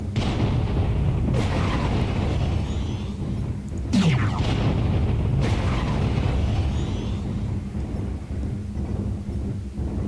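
Heavy weapons fire from mechs in MechWarrior Online, several deep booming blasts and a sweeping energy-shot whine over a constant rumbling battle drone.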